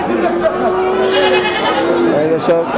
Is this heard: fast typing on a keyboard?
no